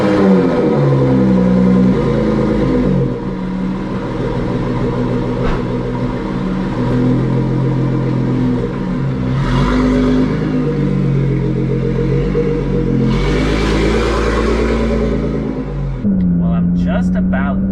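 A 700hp 2017 Nissan GT-R engine drones steadily from inside the car while driving, with low rumble and brief swells under talking voices.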